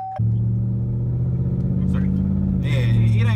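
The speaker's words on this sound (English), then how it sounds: "I'm in the car with Tatiana." A car interior with a steady low engine rumble and road drone, loud and continuous. Voices talk over it toward the end.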